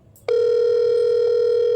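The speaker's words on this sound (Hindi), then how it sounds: "फोन, किसका फोन?" A telephone rings at home as one loud, steady electronic tone that holds for about a second and a half before cutting off.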